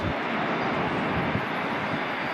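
An Air Canada Airbus airliner arriving at LAX gives a steady, loud broadband jet roar with no clear change across the moment.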